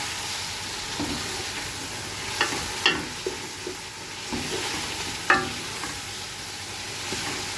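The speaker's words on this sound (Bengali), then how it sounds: "সুন্দর করে ভাজা ভাজা করে নিতে হবে" Khichuri ingredients with ginger fry and are stirred in a pan in a home kitchen, a steady sizzle broken by occasional scrapes and clinks of the spoon, heard alone without speech.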